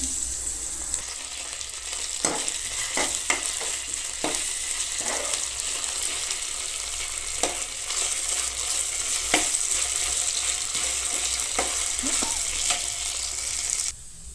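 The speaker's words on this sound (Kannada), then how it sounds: "ಚೆನ್ನಾಗಿ ಫ್ರೈ ಮಾಡ್ತಾಯಿದ್ದೀನಿ. ಈಗ ನಾನು ಇದಕ್ಕೆ 1 ಸ್ಪೂನ್ ಶುಂಠಿ ಬೆಳ್ಳುಳ್ಳಿ ಪೇಸ್ಟ್ ಹಾಕ್ತಾಯಿದ್ದೀನಿ" Green chillies and ginger garlic paste frying in a pan, a continuous close hiss of sizzling oil with scattered clicks of a spoon stirring.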